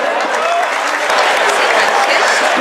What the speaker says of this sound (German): einen Applaus bitte